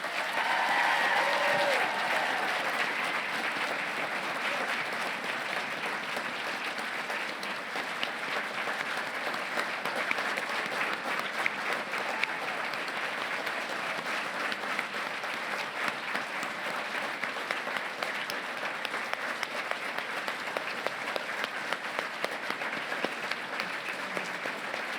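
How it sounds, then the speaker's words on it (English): Sustained audience applause at a Make-A-Wish North Dakota charity gala, steady and dense clapping from a large crowd filling the room throughout, with light cheering mixed in. "Please join me in a round of applause for the 2024 Make-A-Wish North Dakota Volunteer of the Year, Casey Feuder."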